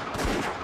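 Gunshots fired in a Spanish-language documentary reenactment of Che Guevara's execution, a short burst of sharp, loud impacts with a low thud and no talk over it.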